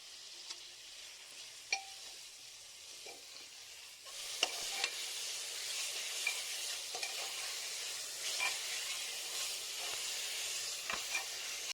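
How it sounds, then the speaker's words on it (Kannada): Tomatoes and spices sauté with salt in a pressure cooker, giving a steady, fairly quiet sizzle with occasional stirring scrapes and clicks throughout. "ಟೊಮ್ಯಾಟೊ ಬೇಗ ಬೇಯೋದಕ್ಕೋಸ್ಕರ ಕುಕ್ಕರ್ಗೆ 1 ಟೇಬಲ್ ಸ್ಪೂನ್ ಉಪ್ಪನ್ನು ಸೇರಿಸಿಕೊಂಡು ಬಾಡಿಸ್ಕೊಳ್ತಾ ಇದ್ದೇನೆ."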